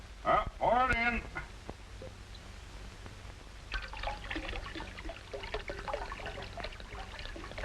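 Grape juice poured into a second punch bowl, a close trickling and dribbling stream of liquid after a short spoken exchange, steady and fairly quiet.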